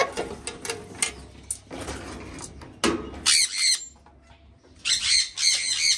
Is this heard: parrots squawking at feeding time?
yes